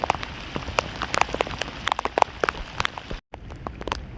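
Heavy rain falling outdoors near water during a fishing outing, a dense, close patter of drops striking a surface with sharp individual splats, briefly cutting out near the end.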